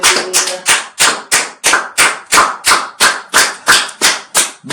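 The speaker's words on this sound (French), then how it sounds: "Quelqu'un peut applaudir notre Seigneur." A church congregation claps in unison, about a dozen loud, evenly spaced group claps in a steady rhythm, close and crisp, with no talking over them.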